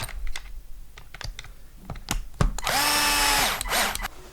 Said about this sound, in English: Get this bad boy wrench back down.